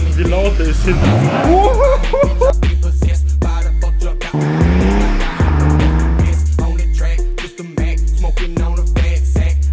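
A loud BMW E39 with a tuned exhaust drones steadily close behind, its engine roar filling the whole stretch with a few brief dips, while voices are heard over it.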